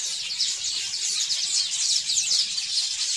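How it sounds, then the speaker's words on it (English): Weaver birds chatter and buzz in a dense, continuous racket at their nests while a female inspects them, many overlapping calls close by in South Africa. "all this racket is because there's a female weaver bird inspecting the places"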